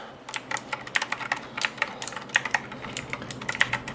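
Someone types on a computer keyboard while unboxing and setting up a Razer BlackWidow V3 Tenkeyless. Quick, irregular clicks and clacks come close and clear, with no talking.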